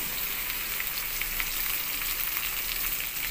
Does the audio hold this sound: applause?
no